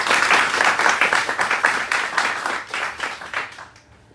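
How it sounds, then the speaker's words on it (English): An audience at a Toastmasters farewell speech breaks into applause, a dense burst of clapping that holds steady and then tapers off over about four seconds. "And let's have a round of applause for all of you."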